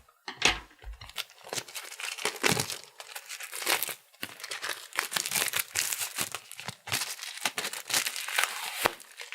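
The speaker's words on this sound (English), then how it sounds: "let's see if we can get into this packaging very carefully" Plastic wrapping on The 7th Continent board game box crinkles and tears as it is carefully opened, with close, irregular bursts of rustling and crackling broken by brief pauses.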